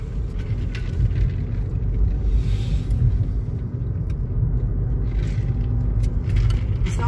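A car driving south on Morris Boulevard, a loud steady low road rumble and engine drone filling the whole stretch with no talk over it.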